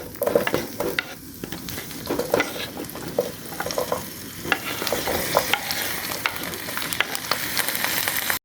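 Vegetables frying in about 70 grams of butter in a hot pan for a restaurant-style Indian butter chicken, with a steady crackling sizzle punctuated by the clink and scrape of stirring, close and fairly loud throughout.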